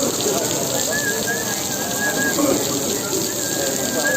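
Heavy rain pours down outdoors in Portugal, a dense, steady hiss that fills the whole stretch without a break, with a faint whistling tone drifting above it now and then.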